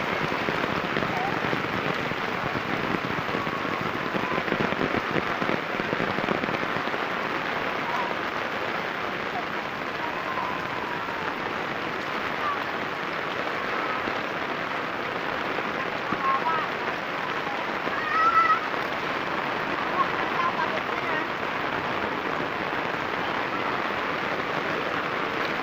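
Dense, constant hiss of heavy rain pouring down during flooding, loud and unbroken throughout, with occasional voices buried beneath it.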